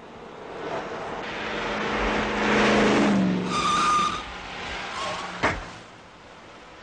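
A car engine swells and passes nearby on a road, rising to a broad roar mid-clip and fading, with a brief sharp knock near the end; no speech.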